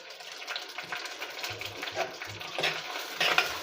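Grated ginger and garlic sauté in a pan for a village-style Kerala fish curry: a soft, continuous sizzle with a run of low scraping stir strokes, growing a little louder toward the end, with no talking.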